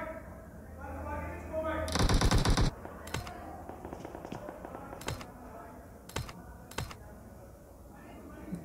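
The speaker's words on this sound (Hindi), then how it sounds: "टीम नंबर 18 की तरफ से फायरिंग चल रही है।" Gunfire in the battle-royale shooter PUBG: a dense burst of automatic fire followed by several separate sharp shots, some distant, under a steady game background with a voice commentating.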